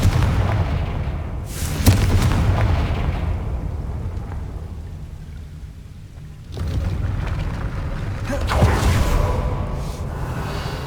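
The Confringo blast spell in Hogwarts Legacy strikes a gate: two heavy booming explosions several seconds apart, each trailing into a rumbling decay over quiet game ambience.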